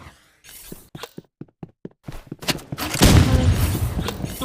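Gunfire at a shooting range inside a video game: a series of sharp isolated shots, then a dense loud burst of rapid fire with clattering impacts.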